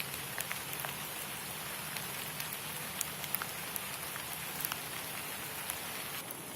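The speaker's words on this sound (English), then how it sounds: "if you listen closely, you can hear the rain." Rain falling on a nature trail in the woods, a soft continuous patter of drops with occasional sharper taps, quiet and steady with no talking.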